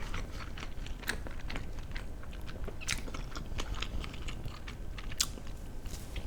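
Close, wet chewing and biting of a grilled eel sandwich held in the hand, with soft crunchy bites and mouth sounds repeating steadily throughout.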